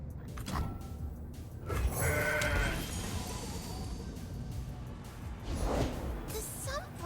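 In the Legends of Runeterra video game, a goat bleats in a few wavering cries over busy game effects and whooshes.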